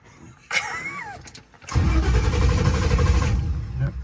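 An old vintage car that is out of fuel cranks over, a short burst, then a pause, then a longer loud churning crank that never catches, all heard close by.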